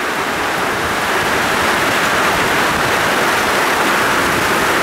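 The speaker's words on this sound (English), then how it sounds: "Oh, look at that for rain." Heavy rain pouring during a windy Adelaide storm, a dense, loud, unbroken hiss of falling water with no voices over it.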